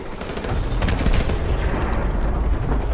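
Dense automatic gunfire from a Modern Warfare video game battle, continuous loud rattling bursts and booms layered together without pause.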